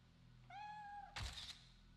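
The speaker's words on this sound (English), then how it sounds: "cute kitty" A cat meows once in the Fatal Frame 3 video game, a clear, short tonal call followed by a brief thunk, quiet and isolated against a low hum.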